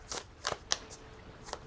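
Quick papery riffles and slaps of tarot cards being shuffled by hand, in several short bursts close by.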